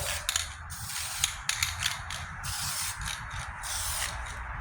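Primer sprayed in a light coat onto the rust-repaired tailgate of a 1998 Ford Ranger, a steady close hiss with brief sputters and clicks of the spray trigger throughout.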